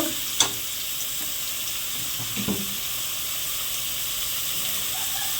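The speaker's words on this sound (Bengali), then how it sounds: "এবারে আমি মটনগুলো ঢেলে দেব দিয়ে একটু ভালো করে নেড়ে নেব" Mutton sizzles steadily in a hot pan with a continuous bright hiss, while a few clacks and scrapes of a spoon stirring it stand out near the start and midway.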